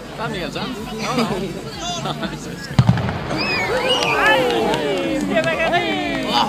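Cannon shots start an orienteering relay: a sharp blast bursts out partway through, then the crowd cheers and shouts loudly in a busy, excited outdoor setting.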